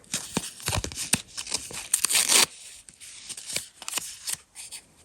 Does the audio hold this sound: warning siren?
no